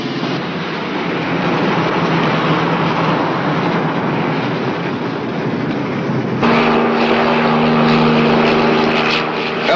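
A police helicopter in flight, a steady broadband rotor and engine roar running loud and continuous throughout, with a sharper tonal whine joining in toward the end.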